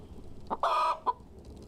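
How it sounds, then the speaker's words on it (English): A chicken clucks as a stream alert sound effect, with a short cluck, a sustained loud squawk, then one more quick cluck, heard alone and clearly. "What about the chook?"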